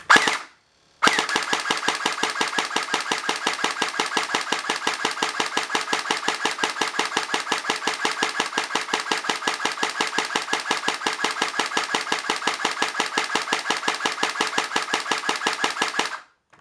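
A Cyma CM.046 airsoft AEG AK fires a brief opening burst, pauses, then keeps up a long, steady, rapid full-auto rattle with the trigger held until it stops abruptly near the end.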